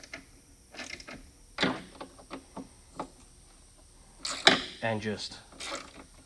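A nylock nut on a CMM Offroad tailgate desnubber being snugged with a socket wrench, a few close ratcheting clicks and metallic ticks in short bursts, with a brief spoken phrase.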